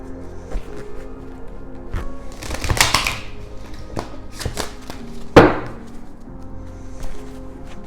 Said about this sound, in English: My overzealous deck isn't wanting to shuffle today.